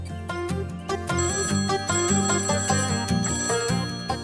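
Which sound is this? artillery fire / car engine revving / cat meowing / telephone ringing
telephone ringing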